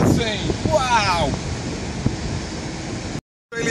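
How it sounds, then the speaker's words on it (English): Ocean waves wash in at Surfers Paradise beach on the Gold Coast, a broad rushing surf mixed with heavy wind buffeting the microphone, while a voice chatters briefly near the start. "And now we're at the beach, the fabulous surfers paradise. Just look at those waves!"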